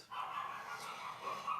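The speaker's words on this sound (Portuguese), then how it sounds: "Vocês vão ouvir a minha pincher latindo." A pinscher dog barks in short, high, yappy bursts, fairly close and alone in a quiet indoor space.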